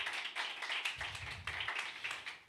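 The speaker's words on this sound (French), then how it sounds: "j'aimerais bien qu'on applaudisse Herman qui est là avec moi aujourd'hui" Audience clapping at a live music session, a moderate burst of overlapping claps that swells and dips in waves over a low background rumble, with no talk on top.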